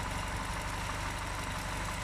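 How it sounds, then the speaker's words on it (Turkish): A Tofaş Şahin car engine idles up close, a steady low rhythmic thrum with a faint repeating tick, constant and uninterrupted with no voices. "motor sesi çok güzel."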